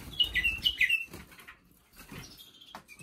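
A pet bulbul in a cage indoors gives a quick run of bright chirps and a short burst of wing flapping up close, then quieter rustling and a few faint tweets.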